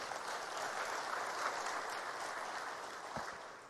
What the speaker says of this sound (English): there's the need for one more applause for Kenya.